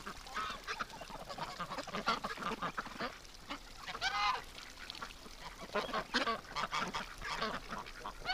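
Wintering backyard ducks and geese honk and quack at moderate distance, calls overlapping in irregular bursts over a faint outdoor background.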